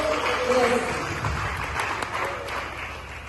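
Applause from a ceremony audience, steady and moderate crowd clapping that runs throughout with some voices mixed in.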